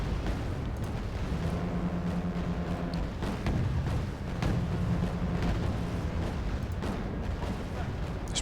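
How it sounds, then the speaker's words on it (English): A ship's ammunition room explodes in the video game Wargame Red Dragon, with heavy booming blasts and rumbling artillery-like bursts rolling through the whole stretch, plus a steady low tone in between. "Sure, another explosion in the ammo room."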